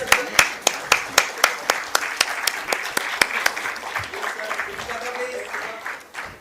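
Applause greets the leadership team at an NSE stock exchange listing ceremony for the TVS Industrial & Logistics Parks IPO. A few loud, distinct, near claps lead into a softer, scattered round, with voices talking underneath.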